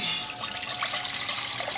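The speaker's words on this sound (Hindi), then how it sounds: "मैंने 4 गिलास पानी एक पतीली में डाला" Water poured into a cooking pot while preparing almond sharbat, a steady splashing, trickling stream heard up close and alone for the whole stretch.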